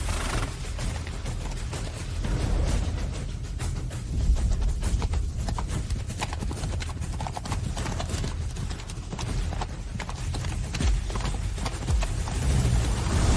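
A horse galloping in a race, its hoofbeats drumming in a fast, continuous, close rhythm for the whole stretch, with no voices.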